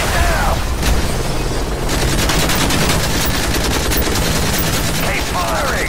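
Dense automatic gunfire and rifle bursts in a Call of Duty: Modern Warfare 3 combat mission, with an enemy helicopter nearby; loud, continuous rapid shots with booming impacts throughout, no speech over it.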